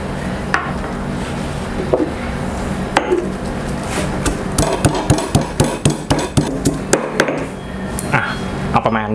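A pestle pounds coriander root, garlic and pepper in a mortar while a pork-neck dish with jaew dipping sauce is prepared. Repeated sharp, close thuds come in steady bursts over a busy kitchen background.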